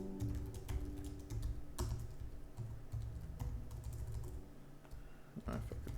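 Steady typing on a computer keyboard, with soft continuous key clicks and occasional sharper strikes, quiet and close over a low background hum.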